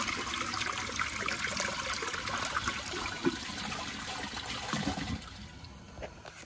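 A 2002 Sanitarios Maracay toilet flushes with a loud, steady rush of water that tapers off toward the end into a quieter trickle.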